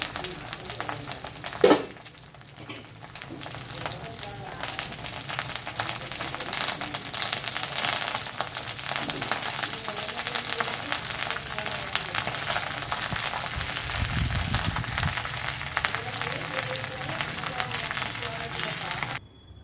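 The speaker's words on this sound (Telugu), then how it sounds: "కరివేపాకు అయితే ఇట్లా వేయించుకోవాలి." Curry leaves frying in a pan while homemade spice powders are prepared, giving a steady, continuous sizzle with a brief clatter near the start.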